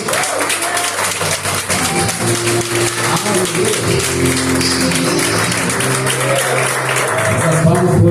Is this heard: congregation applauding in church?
yes